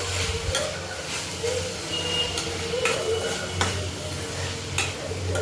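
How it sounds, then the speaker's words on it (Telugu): Food stirred in a frying pan with a spoon, a steady sizzle under repeated scraping strokes, close and moderately loud, with no voices. "ఇలా 2 times కలుపుకోవాలి."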